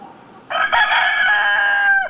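A rooster at an illegal cockfight in Union County crows once, loud and close, with a long drawn-out call that holds steady before trailing off.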